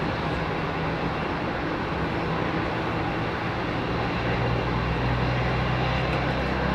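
A Boeing 787 Dreamliner roars at London Heathrow Airport, a loud, steady broadband jet rumble filling the whole stretch with no breaks.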